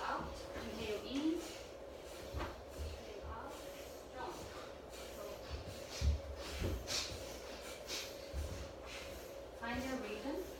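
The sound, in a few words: group breathing in and out in yoga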